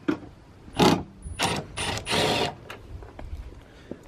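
A ratchet clicks in short bursts as bolts are pulled during an intercooler install on a Ford Fiesta ST, several quick ratcheting runs close up, then a few scattered taps and clicks.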